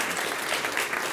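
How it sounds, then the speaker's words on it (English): Steady applause from an audience at a school district governing board meeting, dense clapping filling the room without a break for its full short length, with no voices heard over it. "If you could stand so we could give you a round of applause."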